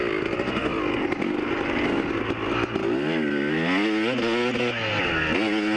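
Dirt bike motorcycle racing at the Toledo Trail Riders hare scramble at Bundy Hill, its two-stroke-like engine loud and close throughout, revving up and down in rising, falling pitch sweeps as the rider spins and accelerates.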